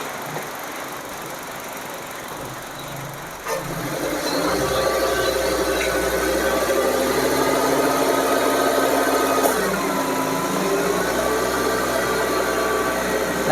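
A 2015 Nissan Grand Livina automatic idles with the air conditioning on, then its engine is revved and held at a raised, steady hum, close and even, with no voices.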